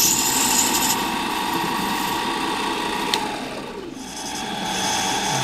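A lathe cutting down a brass finial base, a steady whining machine drone with a constant mid-pitched hum and faint scraping at close range, no speech.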